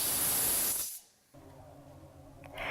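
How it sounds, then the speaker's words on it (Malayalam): A pressure cooker cooking mutton curry lets out a loud, high, rushing hiss of escaping steam. It drops off abruptly after about a second, then a softer hiss lingers and swells again at the end. "കുക്കർ അടച്ചു വെച്ച് 6 വിസിൽ കേൾക്കുന്നത് വരെ മീഡിയം ഫ്ലെയിമിൽ വേവിച്ചെടുക്കുക"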